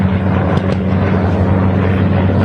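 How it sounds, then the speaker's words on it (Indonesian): An American military helicopter flies overhead with a steady, loud rotor and engine drone and a low throbbing hum that stays constant throughout. "Helikopter Amerika"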